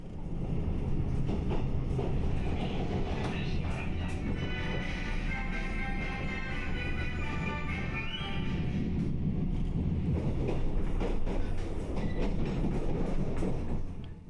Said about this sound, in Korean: 이 열차는 태백에 있는 낙동강 발원지에서 출발한 물줄기를 따라 깊은 산속을 달려갑니다